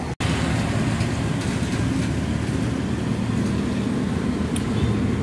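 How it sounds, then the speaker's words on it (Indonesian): A Pandawa 87 tour bus travels along a busy road toward Madura, its steady broadband rumble and traffic noise continuous and fairly loud throughout, with no talk over it. "Bus pariwisata Pandawa 87."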